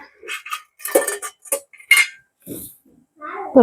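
A metal lid is set on a pot of sothi, a coconut mango gravy served with string hoppers, at a home meal. Sharp clinks and clatters sound in short separate hits, with bits of talk in between.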